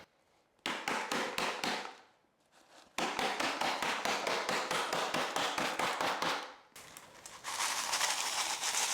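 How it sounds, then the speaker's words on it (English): A plastic plant pot being repotted is banged repeatedly to settle potting soil mixed with perlite, giving fast, sharp knocking bursts in several runs with short gaps, loud and close, without talking. "I'm gonna give this a loud bang so I can settle this pond."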